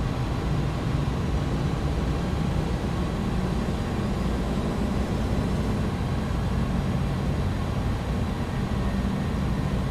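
Airbus A300 BelugaST jet engines at takeoff power in X-Plane 11 give a steady, broad roaring rumble, constant and dense throughout with no speech.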